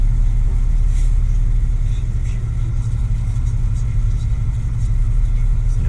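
Engine of a 2014 Mack MRU garbage truck with a 44-yard Easy Pack Hercules body running, a steady deep rumble heard from inside the cab, continuous throughout.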